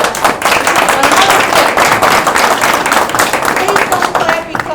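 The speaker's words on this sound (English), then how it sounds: "Please don't clap because you're wasting my time." Loud audience clapping at a library board meeting in Niles, Illinois, a dense burst of many hands clapping close by that holds steady for several seconds.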